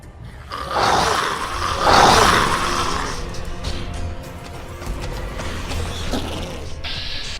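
Loud growling, roaring ghoul creatures in the Fallout New Vegas video game, a rough mechanical-sounding roar swelling twice in the first few seconds and then continuing as steadier grinding and creaking noise.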